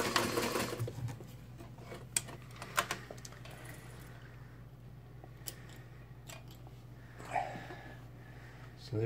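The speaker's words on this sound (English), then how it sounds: "First a straight stitch through two layers of denim." White model 609 sewing machine running a straight stitch through two layers of denim, a steady low mechanical hum with faint clicks throughout, loudest at the start and near the end.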